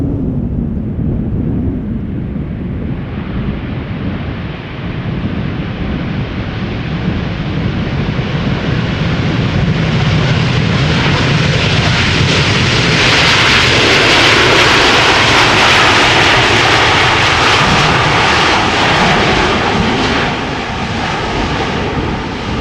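A Corendon Airlines jet arriving at Schiphol Airport roars loudly and steadily, the engine noise swelling as it passes close and then holding strong, with no talk over it.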